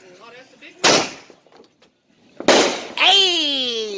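Fourth of July fireworks burst outdoors in two sharp, loud booms a couple of seconds apart, followed by crackling and whistling, with people talking and cheering around them.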